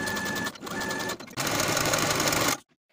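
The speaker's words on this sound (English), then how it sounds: "Sew these side seams with a 5/8 inch seam allowance and then serge the seams to finish." A sewing machine runs in fast, steady bursts while stitching the side seams of a tiered dress, with two brief pauses before stopping abruptly into silence.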